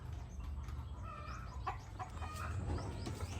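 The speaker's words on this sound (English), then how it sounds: "I've got our chickens out today for a walk around the place." Chickens wandering freely outside their run, clucking softly and intermittently at close range over a steady low background rumble, with no talk.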